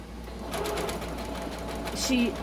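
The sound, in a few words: sewing machine sewing a face mask tube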